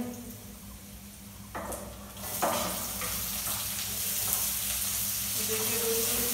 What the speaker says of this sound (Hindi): इसमें हम अब प्याज ऐड कर रहे हैं